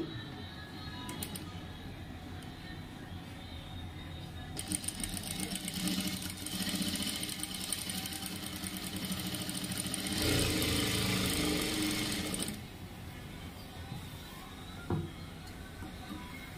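A sewing machine stitching blouse fabric for a prince cut blouse front, bursts of fast mechanical whirring that start and stop over a quiet room hum, running longest in the middle; no talking.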